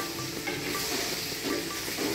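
Paneer fries in a pan with a dense, continuous sizzle and hiss, loud and close, steady throughout with faint stirring underneath.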